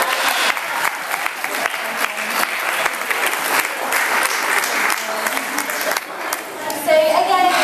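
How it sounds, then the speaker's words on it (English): Spectators at an outdoor parrot show at Longleat clap for a performing bird, a lively, fairly close burst of applause with a faint voice or bird call near the end. "Give him a clap."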